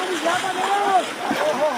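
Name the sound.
fast-flowing floodwater after heavy rain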